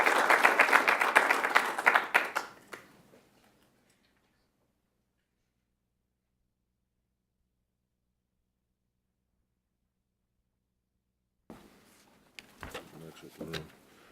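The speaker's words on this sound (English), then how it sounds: "let's give our speaker a round of applause" An audience at a military strength index release event applauds a speaker with a loud burst of clapping for about three seconds, then silence, followed by faint clatter and movement.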